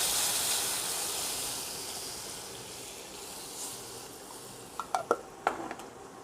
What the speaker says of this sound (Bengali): মিক্সির বাটিটা ধুয়ে এর মধ্যে জল দিয়ে দিয়েছি